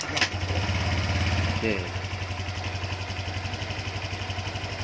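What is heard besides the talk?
Honda Vario 125 FI motorcycle engine kick-started and idling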